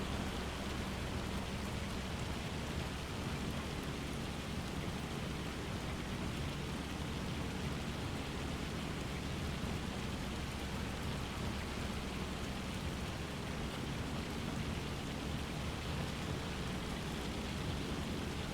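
Steady, dense rain hisses without a break in a farming video game, an even broadband wash of falling drops at constant loudness with no voices.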